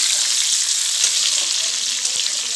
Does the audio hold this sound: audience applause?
no